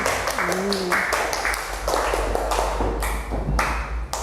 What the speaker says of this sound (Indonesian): Sekarang beri tepuk tangan buat kelompok 1, 2, dan 3.